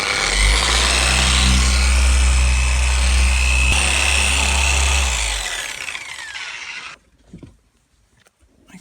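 A machine polisher with a red finishing pad correcting car paint runs loud and steady with a deep hum and high whir, then cuts out around seven seconds, leaving near silence and a few faint knocks.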